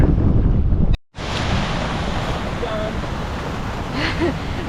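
Waves and wind at a small lagoon on Fraser Island, a loud steady wash of surf with heavy wind buffeting the microphone, briefly cut out near the start.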